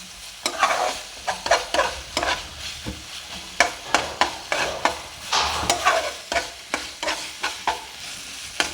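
Masala sautéing in a pan while being stirred, with repeated sharp scraping strokes of a spoon against the pan over a steady sizzle, close and fairly loud, no talking.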